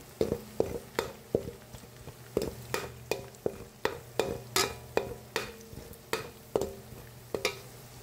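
Garlic frying in a pan for pancit guisado, stirred with a utensil that gives regular sharp scraping clacks about twice a second over a low steady sizzle, close and alone.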